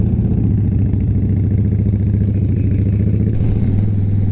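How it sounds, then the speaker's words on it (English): An Indian motorcycle engine rumbles loudly and steadily up close, its loud exhaust putting out a constant throaty drone with a slight shift near the end. "I don't think he can hear me over my exhaust"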